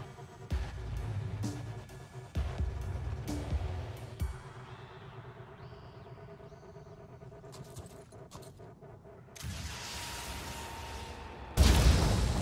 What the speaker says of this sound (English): We've got a grenade launcher.